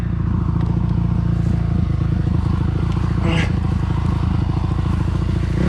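A fast dirt bike races along a trail, its engine a loud, continuous buzzing rattle with steady rapid firing pulses and brief scraping clatter from the ground.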